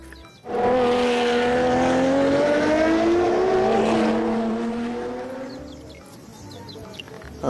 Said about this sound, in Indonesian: Mobil balap.